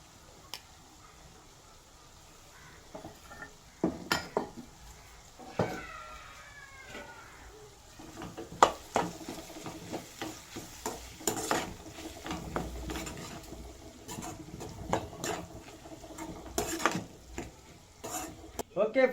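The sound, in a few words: carrots frying and being stirred in a pan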